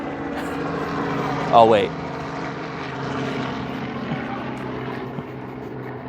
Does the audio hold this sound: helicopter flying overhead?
yes